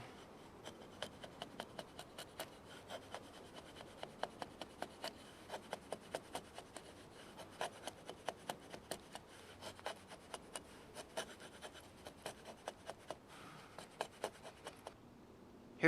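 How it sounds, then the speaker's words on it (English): An Estwing camp axe shaves thin curls off dried-out dead pine in quiet, close, rhythmic scraping strokes, each a short dry rasp repeated steadily with brief pauses between. "So if I wanted to get some shavings off a piece of dead wood, this is pine that is pretty dried out"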